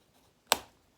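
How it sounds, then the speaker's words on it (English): Pencil lead cracks while writing a quote in a journal beside a still-life painting: one crisp, sharp snap, close and isolated in an otherwise quiet room. "Ooh, cracked my pencil."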